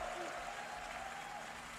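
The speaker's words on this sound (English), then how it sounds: "Now let's also applaud Claire Obscure from Sandfall." Audience at Summer Game Fest applauds for Clair Obscur from Sandfall, a steady dense clapping from a large crowd, somewhat distant, with a faint voice speaking over it.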